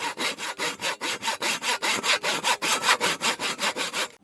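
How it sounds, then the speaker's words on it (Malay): A hand saw cuts through a wooden workpiece in steady back-and-forth strokes, about four per second, loud and close with no talking. "langkah seterusnya ialah memotong bahan kerja menggunakan gergaji"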